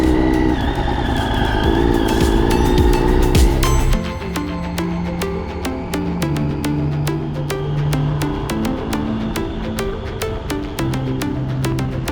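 A Triumph Street Triple motorcycle ridden off-road along wet Highland roads on the North Coast 500, a steady engine drone with wind, loud and constant throughout, with a harsher shift partway through.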